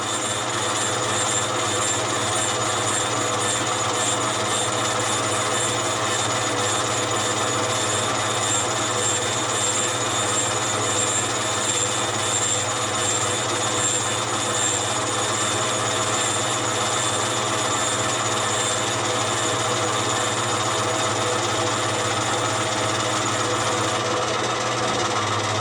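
Valves ground on an old John Deere engine in a power plant build, giving a steady, unbroken mechanical whirring drone that holds at an even level throughout.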